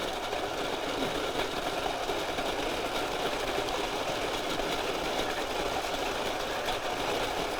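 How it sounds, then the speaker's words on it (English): A Baratza Encore electric burr grinder grinds coffee beans in a steady, dense mechanical whir with a gritty crunching texture, loud and close, running unbroken throughout. "This is the Baratza Encore grinder. Okay. It's a great electric burr grinder."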